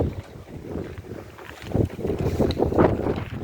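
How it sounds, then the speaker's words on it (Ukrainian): Plastic film over a garden bed flapping and rattling in strong gusting wind, with a rough rumble of wind buffeting the microphone, no voices. "Ось так лопотить плівка такий у нас сильний вітер"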